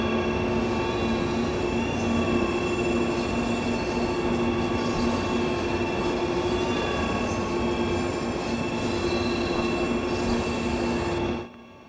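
A BR187 electric locomotive in the Train Sim World 3 game rumbles loud and steady, with a constant mechanical drone, droning tonal hum and rail noise throughout, fading abruptly at the very end.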